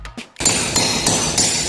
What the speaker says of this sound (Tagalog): Tapos pukpukin natin martilyo.